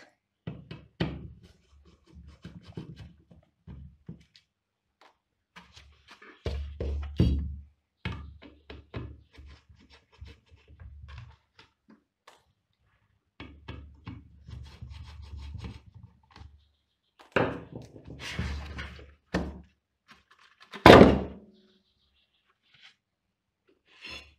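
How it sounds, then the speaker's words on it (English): Screws being removed from the casing of a variable frequency drive, the screws threaded directly into the heatsink: close irregular scraping, clicks and knocks of tool on metal housing in short bursts, ending with a sharp louder clack. "let's open it. It's held on by these 4 screws directly into the heatsink."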